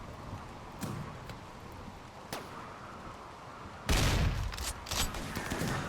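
Gunfire from a mechanoid fight in Rimworld, with scattered distant shots crackling over a steady low background and then a louder, denser burst near the end.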